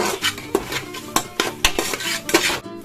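A spoon scrapes and clanks against a metal pot while peas and spices are mixed, several sharp irregular metallic knocks close by.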